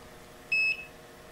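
A Rosewill REGD-6361 stud detector gives a single short, clean electronic beep while calibrating against a wall. The tone is high, clear and close, set against a quiet room hum.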